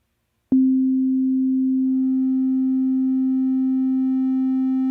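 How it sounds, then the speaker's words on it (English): An Ableton Wavetable synth note starts abruptly from a sine tone and holds steadily, with bright harmonics gradually emerging as the wavetable position morphs upward, sustaining alone without any talking. "We're going to play a note, and we're going to move up the wavetable."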